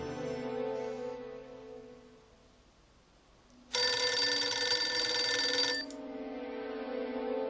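A telephone rings in the Dracula 3 video game, a single long bright electronic ring of about two seconds, loud and close, set against a steady low ambient drone before and after.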